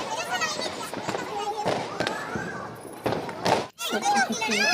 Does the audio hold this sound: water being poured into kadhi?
no